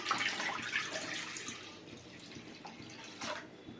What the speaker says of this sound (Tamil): இப்போ அதில் நான் கொஞ்சம் தண்ணி சேர்த்துக்கிறேன்.